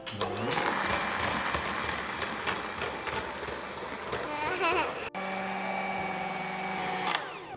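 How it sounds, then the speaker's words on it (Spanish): An electric mixer beats egg whites into a stiff, firm meringue for a tres leches cake, a loud, steady motor whine whose pitch shifts slightly. It cuts out briefly, then resumes at a steadier tone. "Vamos a batir fuerte hasta conseguir el merengue duro y firme"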